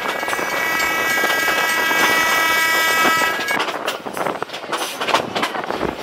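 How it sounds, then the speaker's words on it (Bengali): A local train runs along the track from Kurigram toward Chilmari, with a steady clattering rumble and a sustained tonal whine that fades as the train slows, leaving irregular rattles and knocks. "আমাদের ট্রেনটা স্লো হচ্ছে আস্তে আস্তে"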